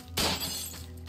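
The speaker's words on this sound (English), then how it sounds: "I shoot glass." Glass shatters in a Minecraft zombie game after being shot, a loud sudden crash with a bright, glittering burst that rings out and fades over about a second, with no talk.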